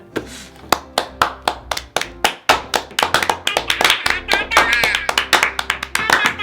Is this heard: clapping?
yes